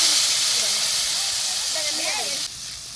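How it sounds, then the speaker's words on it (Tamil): Village-style fish curry poured into a hot pot over an outdoor stove sets off a loud, steady hiss of steam that drops off sharply near the end, while a voice talks over it. "குழம்பு ஊற்ற போகிறோம்."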